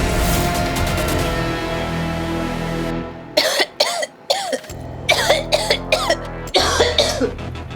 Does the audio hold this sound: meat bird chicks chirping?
no